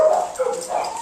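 A dog under aggression evaluation gives short high yips and whimpering barks, close and fairly loud, in a quick irregular run over about a second with no talk.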